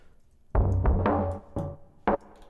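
A laid-back trip hop drum loop with heavy, boomy kicks and crisp snare hits in a slow, loose groove, played alone.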